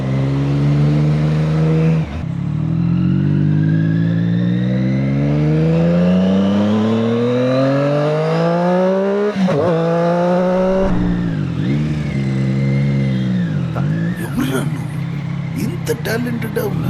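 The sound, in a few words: Triumph Street Triple motorcycle engine while riding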